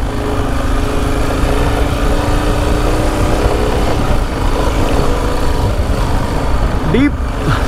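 A motorcycle fitted with a TEC cam rides through sand, its engine droning steadily and loudly up close with wind buffeting throughout.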